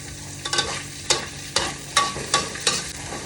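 Blanched straw mushrooms are stir-fried in a hot pan, with about six rhythmic scraping stir strokes over a low steady sizzle, close and clear with no talking.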